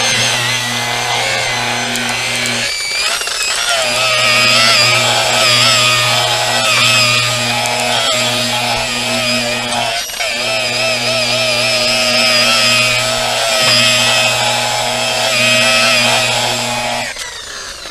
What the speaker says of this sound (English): So I'll just move the grinder back and forth.